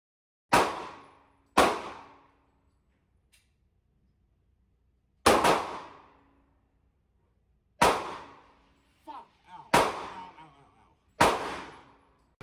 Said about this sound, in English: what they're like to shoot is bloody horrible